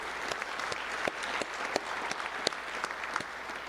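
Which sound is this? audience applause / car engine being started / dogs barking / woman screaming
audience applause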